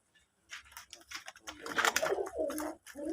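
Deshi running pigeons coo nearby in a loft, low throaty rolling calls overlapping and growing fuller after a quiet start, with faint rustling around them.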